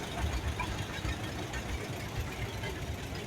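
A 1943 John Deere tractor engine running in a farm show parade, a low, steady, faint chugging with an uneven knocking rhythm and no voices over it.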